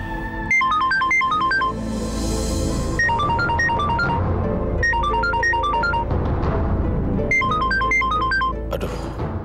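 Mobile phone ringtone playing a repeating electronic melody in loud bursts, ringing on unanswered for several seconds indoors with no one picking up.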